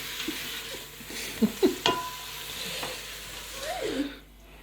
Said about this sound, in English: And then we just stir again.